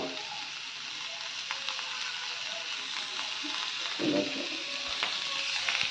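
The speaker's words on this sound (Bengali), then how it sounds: "তো হালকা করে একটু ফ্রাই করে নেবো" Boiled cauliflower seasoned with turmeric and salt fries lightly in a pan, with a steady close hiss of sizzling and a few soft stirring knocks partway through.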